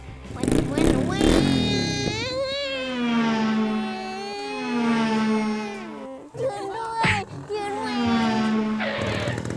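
A child's motorcycle revs and whines in rising and falling surges during a riding lesson, with the rider going straight and turning back. A coach talks over the engine throughout.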